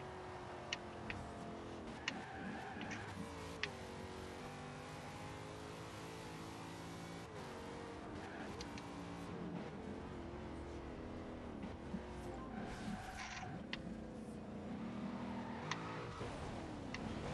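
A Nissan Fairlady Z 432 rust rod with 928 horsepower and four-wheel drive is driven in Forza Horizon 2, its engine revving and shifting continuously at close range, with repeated climbs in pitch and sharp ticking clicks.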